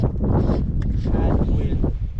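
Wind gusts over a lake in the North Maine Woods, a loud continuous roar buffeting close against the microphone, with faint indistinct voices beneath it.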